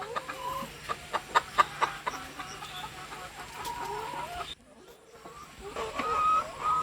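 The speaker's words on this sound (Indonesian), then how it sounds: "Ini di belakang saya nampak aktivitas ayam petelurnya." Laying hens in a poultry house cluck in a series of short, close calls over a steady background hum, followed by a brief lull and then more scattered clucks.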